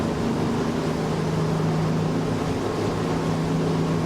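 A Windy 39 Camira motorboat cruising at around 32 knots gives a steady, loud engine drone with rushing water noise, continuous and unbroken throughout.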